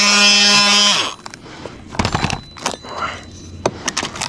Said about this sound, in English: This is a Milwaukee multi-tool.